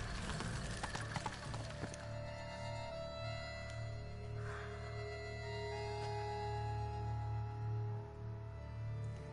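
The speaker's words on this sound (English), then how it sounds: "There's a horse bearing towards you. I would move." Horse hooves clop along steadily in the video game The Witcher 3 beneath sustained music tones, at moderate volume with no voices.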